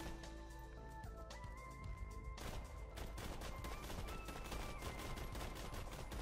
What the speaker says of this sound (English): Let me shoot this thing.